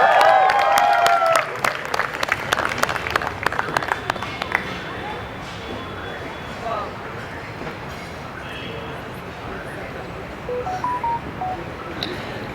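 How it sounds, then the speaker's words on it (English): Wedding guests applaud loudly for the first few seconds, then the clapping thins into scattered claps and a murmuring room ambience. "One round of applause."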